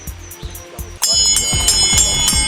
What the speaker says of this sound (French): La cloche vient de retentir